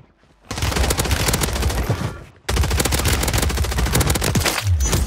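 AMR-9 submachine gun fired in Warzone 3 on the Vondel map, two long, loud sustained automatic bursts split by a brief pause, the rapid shots blurring into a continuous roar.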